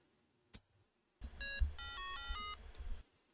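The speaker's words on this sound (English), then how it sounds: "There's a power on beep," After a soft click, a breadboard-built 8088 PC compatible gives a short sequence of power-on electronic beeps, clear and close, then stops in the quiet.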